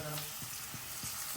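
Green chillies and cumin seeds fry in hot oil, giving a soft, continuous sizzle with a few quiet stirring clicks, faint and close.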